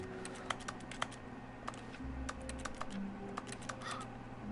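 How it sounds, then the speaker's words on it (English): Rapid computer keyboard typing from the video game The Stanley Parable, a fast irregular run of crisp key clicks, close and clear over a low steady background hum, with no talking. "The X button makes keyboard noises."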